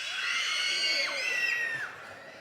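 A group of children scream loudly together on cue, shrill overlapping shrieks that rise and hold for about two seconds before trailing off.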